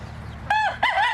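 A farm rooster crows twice in close succession, each call loud, clear and drawn out over a faint background hum.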